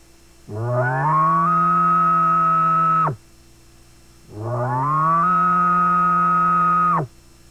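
Two long, deep, rising grunting calls made with a diaphragm call, each about three seconds with a brief pause between, loud and close, imitating an elk's grunt.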